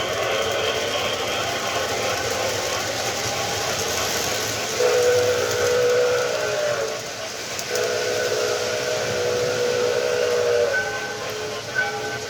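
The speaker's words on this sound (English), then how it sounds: "I'll hit the whistle button again" A Proto 1 model train's steam whistle blows in long steady tones, loud and close. It sounds twice with a short gap between, over a constant mechanical hum.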